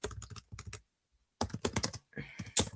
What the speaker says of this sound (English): You can also type in a quick message